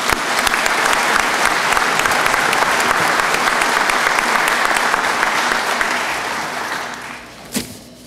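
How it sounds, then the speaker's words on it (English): Loud sustained applause from a graduation audience at a police academy ceremony, steady throughout, tapering slightly near the end, with a single sharp knock close by. "How about a round of applause for all of our award winners?"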